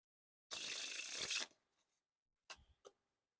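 A deck of Dan and Dave Brown Drifters playing cards is spread into a wide fan, a loud one-second rasping sweep followed after a pause by a few brief soft card snaps, close and quiet otherwise.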